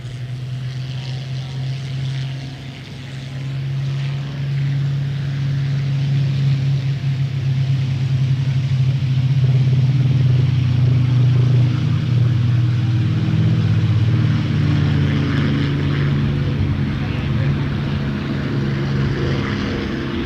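Rolls-Royce Merlin-powered P-51D Mustang and Griffon-engined Spitfire fly past at an airshow in London, Ontario, a loud sustained propeller-engine roar that swells and holds, with faint crowd noise beneath.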